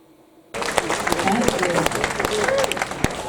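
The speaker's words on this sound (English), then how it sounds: "Can we have another round of applause for our beautiful dancers?" A crowd bursts into applause for the Southwest Lindy Hoppers dancers at a Brixham event, starting abruptly and continuing loud and dense, with voices mixed into the clapping.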